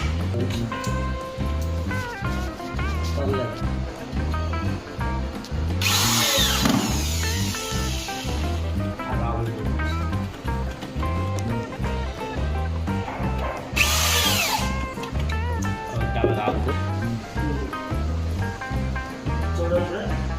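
A power drill driving screws into a cupboard drawer channel, whirring in loud bursts with rattling hits, two short high screeching spurts, and a voice talking at times.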